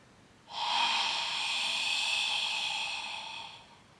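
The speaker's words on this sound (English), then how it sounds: "open your mouth and exhale, creating a little sound in the back of your throat" One long, deep exhale through an open mouth with a soft rasp at the back of the throat, close and breathy, lasting about three seconds before fading out.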